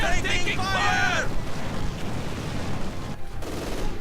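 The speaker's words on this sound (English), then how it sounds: "Machine guns firing away." Machine guns fire in a Company of Heroes 2 battle, bursts of gunfire ringing out over a dense, continuous din of combat with a narrator talking throughout.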